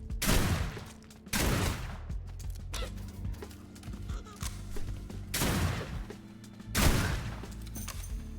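Small rifle fire in a vampire-themed survival video game: several loud bursts of shots spaced a second or two apart, with quieter clicks and handling noises between them.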